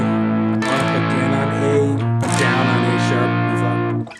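An electric guitar plays distorted, sustained chords from a song, with two strummed changes ringing out loud and close before fading at the end.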